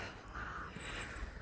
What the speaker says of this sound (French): les corbeaux ils en font du boucan